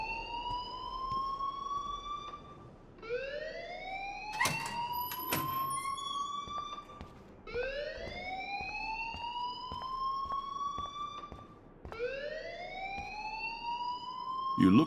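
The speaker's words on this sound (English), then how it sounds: "please turn off that alarm since that's your job." A school alarm in the video game Life is Strange wails in repeating rising sweeps, about four cycles, steady and fairly loud, with faint voices and scattered clicks under it.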